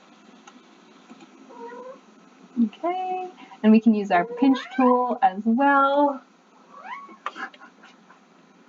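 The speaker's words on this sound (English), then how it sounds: "Sorry about my cat in the background." A pet cat meows and caterwauls repeatedly in a home sewing space while someone talks nearby, the loud drawn-out cries overlapping and alternating with her speech.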